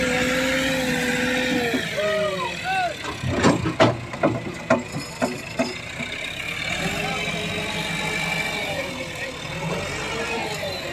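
A stuck tractor's engine strains and revs in bursts while being pulled out with a crane, with a rhythmic series of loud chugging pulses in the middle and voices talking over the steady rumble.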